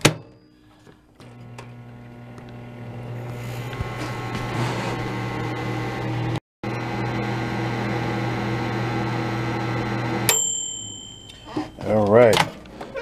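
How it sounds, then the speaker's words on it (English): Microwave oven heating a cup of hot chocolate made with milk: a steady low electric hum with a brief cut-out midway, then stopping, followed by the door and a few beeps, with some handling noise near the end. "We're gonna throw it into the microwave."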